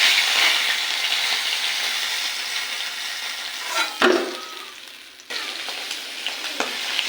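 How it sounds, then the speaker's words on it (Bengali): Pieces of rohu fish and the fish head sizzle and crackle steadily in hot oil in a pan, a close, continuous frying hiss with a few brief stirring knocks and no voices. "মাছটা ভাজা হয়েছে এবার তুলে নেবো"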